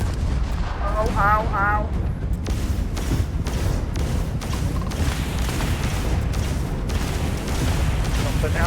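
Gunfire and heavy blasts in Starfield combat, a dense rumbling barrage of booming shots throughout, with a person briefly crying out in pain near the start.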